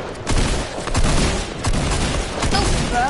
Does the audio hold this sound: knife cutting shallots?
no